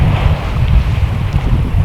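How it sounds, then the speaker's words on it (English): Strong wind roars and buffets against the microphone aboard a sailboat at sea, a loud, steady low rumble with the wash of water underneath. "the report said that wind was starting, and sure enough, we have wind"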